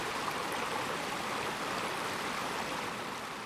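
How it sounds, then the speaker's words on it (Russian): The 15-metre Veldor-Kyrtayol waterfall in the Northern Urals gives off a steady, moderately distant hiss and rush of falling water, unbroken and alone. "В это время недалеко было слышно журчание самого высокого водопада"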